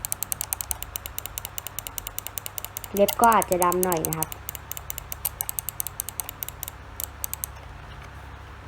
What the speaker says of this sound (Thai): ดี๋ยวเราจะมาฟังเสียงเมาส์การคลิกเมาส์กันเลยนะ